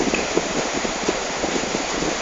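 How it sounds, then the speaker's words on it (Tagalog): Steady rain falls during a typhoon, producing a dense, continuous hiss without breaks, loud and close to the microphone. "Umuulan ho ngayon, no?"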